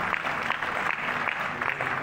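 An audience at a Kanpur comic poetry gathering, a kavi sammelan, breaks into dense, loud applause that fills the whole short stretch at steady strength without a break.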